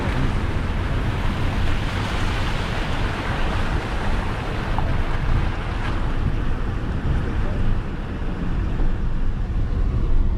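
Continuous rushing, splashing water noise mixed with wind buffeting the microphone, as a car pushes steadily through a creek crossing on a dirt road at Millstream in the Pilbara.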